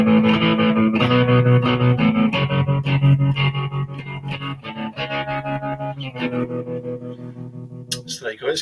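An electric guitar through a Boss ME-80 multi-effects unit rings out with pulsing tremolo and a shimmering chorus modulation, sustained chords wavering steadily in a clear, fairly loud tone for several seconds.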